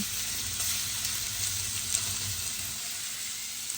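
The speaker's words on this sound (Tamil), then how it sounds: "நாங்கள் இப்போ கருவாடு நல்லா பொரிஞ்சிட்டு இப்போ இதை இறக்குவோம்" Dried fish (karuvadu) frying in hot oil in a home kitchen for a Tamil fish fry, a dense, steady sizzle and crackle that stays loud and continuous throughout with no talking.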